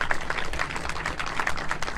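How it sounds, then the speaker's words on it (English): An audience at a Texas A&M campus Unity Walk gives a round of applause for student athletes and staff: dense, steady clapping from many hands, fairly close. "please give them a round of applause"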